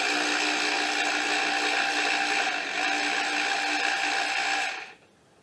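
Strut bracket bolts on the front suspension of a 2012 Jeep Patriot are spun off with a power tool, a loud steady mechanical whir close by that holds for almost five seconds, then cuts off abruptly.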